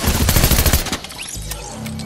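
Gunfire in Fortnite: a loud, rapid burst of shots crackles close by, then stops abruptly, leaving a duller, quieter game backdrop.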